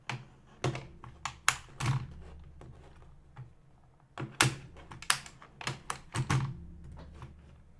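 Typing on a computer keyboard, with scattered sharp key clacks and small bursts of strokes at irregular intervals, fairly quiet and close, with no talking.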